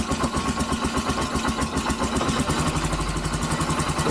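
An ATV quad engine idles in the snowy cold with the choke on, a steady, close mid-pitched rumble that runs evenly throughout, with no voices.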